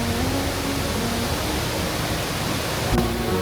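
Vazhvanthol waterfall deep in the forest pours out a constant, close, broadband roar of rushing water that holds steady with no pauses.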